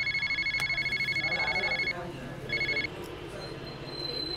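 A telephone rings with a loud, rapid trilling bell in two bursts, the first about two seconds long and the second shorter, while a voice talks underneath.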